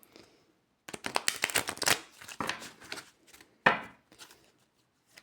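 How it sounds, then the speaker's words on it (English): A deck of oracle cards being shuffled by hand, close and crisp, with a quick run of riffling flicks, a few slower slides, and one sharper slap of cards near the end. "Let me just shuffle these a bit better."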